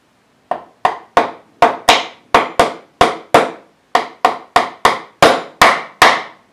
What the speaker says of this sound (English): Then I'll tap in the thong tube with a hammer.